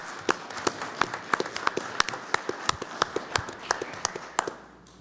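A small audience at a public meeting claps for about five seconds. The claps are sparse and distinct, and they taper off at the end.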